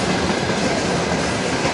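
Steady rumble and rhythmic clatter of a passing freight train of oil tank cars, loud and close, a continuous wash of rolling wagons with no voices.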